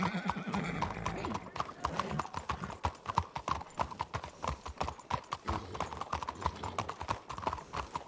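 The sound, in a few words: horse hooves and neigh in a video game roleplay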